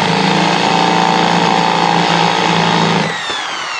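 A power drill whirs steadily at high speed, spinning sandpaper against a doubled drill bit to wear down its thickness, then the motor tone drops and winds down near the end; loud and close, no talking.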